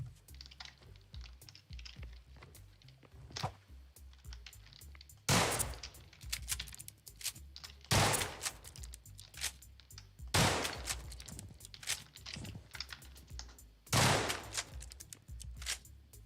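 Shotgun blasts in the MiniCamp tower defense video game: four sharp, spaced booms a few seconds apart, over a quiet bed of clicks and small game noises.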